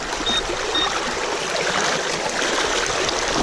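Fast-moving creek water on the Tallapoosa rushes and gurgles continuously, close and fairly loud, with no voices over it.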